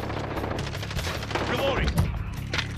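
Rapid automatic gunfire in a first-person shooter video game, dense bursts of shots running throughout, with a voice speaking over the shooting.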